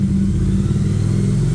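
A motorcycle engine given a little throttle, a loud, close, steady low rumble that holds through the short stretch without talk.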